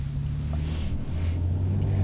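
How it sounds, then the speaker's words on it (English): Low rumbling traffic noise as cars pass by, a steady engine drone with swells of tire hiss, fairly close. "cars just drive by"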